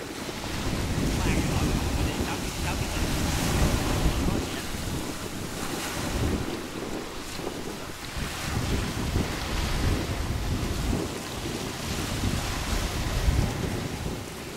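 Steady wind buffeting the microphone over rolling sea waves on open water, heard from a small fishing boat heading out to sea in rough, rocking conditions; a continuous loud wash of surf and wind noise with no talk.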